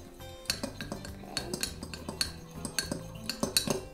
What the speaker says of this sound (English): you put the food coloring in and I'll keep stirring